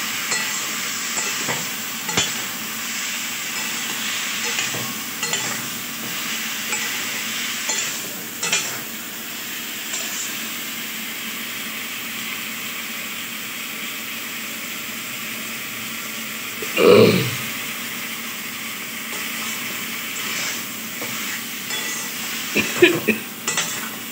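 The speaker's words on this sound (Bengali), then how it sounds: "এবার মশলাটা দিয়ে কষিয়ে নেব।" Spices being stir-fried in a pan, with a steady sizzle throughout and occasional scrapes and clinks of a utensil, including one louder knock near the end.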